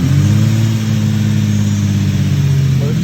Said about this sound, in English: First startup, new intakes.